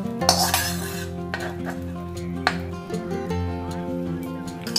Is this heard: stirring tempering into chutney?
yes